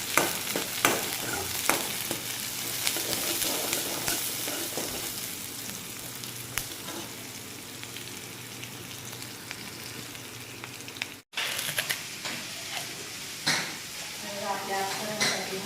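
Noodles fry in a hot pan with a bright, continuous sizzle, stirred with clinking and scraping of utensils against the pan; a short dropout breaks the sound midway before the frying resumes, with faint voices in the background.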